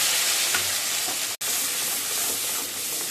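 Onion and tomato paste fries in a pan over a lowered gas flame, making a steady, close hiss and sizzle that runs unbroken except for a split-second cut.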